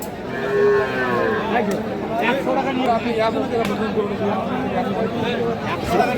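A Sahiwal bull calf moos loudly at the Aftabganj cattle market in Bangladesh, a drawn-out low call over steady crowd chatter and trading voices.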